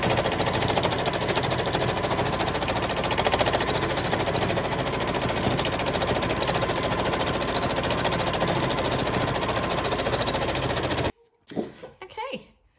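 A sewing machine stitches scrap-made fabric in one loud, steady, continuous run close by, rattling rapidly for about eleven seconds before stopping abruptly, followed by faint handling noises.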